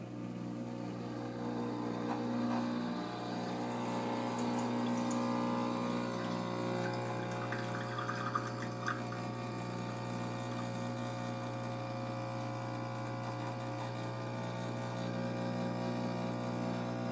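A Breville Bambino espresso machine's pump pulls a shot with a steady, loud electric hum and low vibration throughout, faint liquid trickling underneath.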